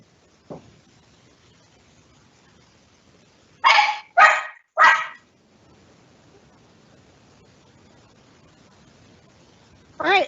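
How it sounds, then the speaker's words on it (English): A pet dog barks three times in quick succession indoors, loud and close, followed by a single further bark after a quiet pause, with no talking over it. "I'm not even positive if you've heard my dog, but she has barked multiple times"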